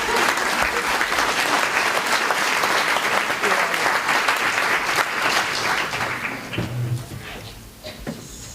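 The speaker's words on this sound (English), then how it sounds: "We can give her a warm Durban International round of applause." A conference hall audience at the opening of an international consultation in Durban breaks into loud, sustained applause that fills the room and gradually fades toward the end.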